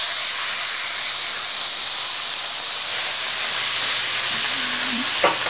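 A hot pan hisses and sizzles loudly and continuously as a shot of alcohol hits searing steak for steak au poivre, with steam rushing throughout and a brief clink near the end.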